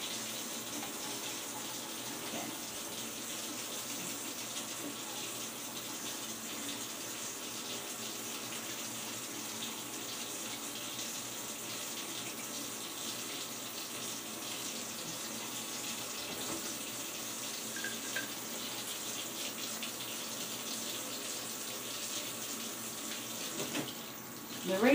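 A plastic item is rinsed under a running tap at a sink. Water flows steadily and evenly for the whole stretch, with a faint clunk near the end and no talk.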